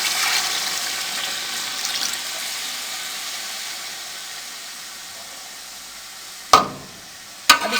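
Water goes into a pot of fried vegetables for jungli pulao, a loud hissing rush of steam and sizzle that gradually fades to a quiet simmer, then two sharp knocks near the end.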